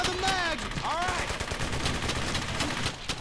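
Rapid bursts of gunfire in the WWII shooter Brothers in Arms: Hell's Highway crackle steadily over a sustained battle din, with whizzing ricochet-like sweeps early on and no clear speech.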